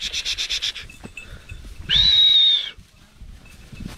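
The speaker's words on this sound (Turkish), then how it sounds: "Koyunları çıkarması bile dert." Sheep being let out of a pen on a farm in hot weather: rhythmic bleating, a shrill whistle-like call, and scattered rustling and shuffling of the flock, moderately close.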